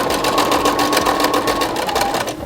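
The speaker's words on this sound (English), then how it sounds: "Just going to go ahead and sew these on" A sewing machine stitches quilt strips together for a zig zag table runner, a loud, close, rapid mechanical whirring with even needle pulses that runs steadily and eases off at the very end.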